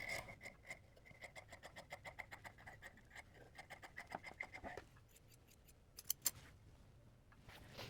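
Scissors trimming fabric seam allowance on a sewing project, a quick series of crisp, evenly spaced snips close by, pausing briefly before a couple of final sharper cuts.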